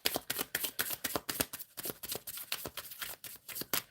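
Tarot deck shuffled repeatedly by hand, a steady run of crisp, rapid card slaps and riffles, close up with no voice over it.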